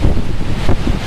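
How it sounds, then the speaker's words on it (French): Storm Caetano's gale howls at Clermont-Ferrand, a dense, roaring gust battering the microphone with low buffeting rumble, loud and continuous through the brief moment. "ça sent que c'est actif le vent parce que ça hurle"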